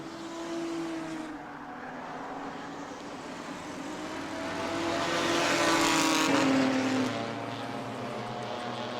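Race cars roaring around the track at the Armadillo Enduro 100 in New Smyrna, engine notes rising and falling as cars pass, swelling louder mid-way with a Doppler-like pitch drop, distant crowd-level ambience underneath.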